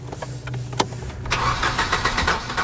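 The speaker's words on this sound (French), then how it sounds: "La voiture, elle démarre pas?" A car engine cranks but fails to start: a sharp click, then a sustained whirring and chugging of the starter motor in repeated rhythmic pulses, fairly close and loud, with no engine catching.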